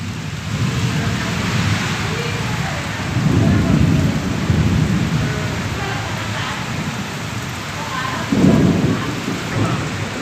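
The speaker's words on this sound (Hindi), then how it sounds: "बहुत दिनों बाद आज इतना बिजली और बादल चमक रहा है, गरज रहा है।" Heavy monsoon rain pours steadily with strong wind while deep rolls of thunder rumble through, swelling twice, loud and close, with no talking.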